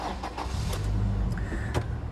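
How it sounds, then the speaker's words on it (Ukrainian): Power-folding side mirrors on a Toyota Land Cruiser Prado 150 whir as they move, a close, steady electric motor hum lasting about two seconds, alone without speech. "Ось і дзеркала пішли складуватися."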